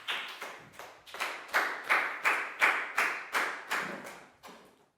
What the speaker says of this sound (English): High five and big round of applause for Chu